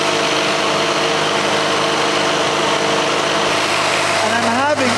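A car engine runs at about 3,000 RPM during an ignition timing check, producing a loud, steady, unbroken engine drone with a smooth, even hum throughout.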